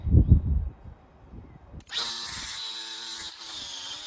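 Power sander working a wooden speaker stand with 120 grit, starting abruptly after a few soft knocks and then running as a steady high whine with a short dip partway.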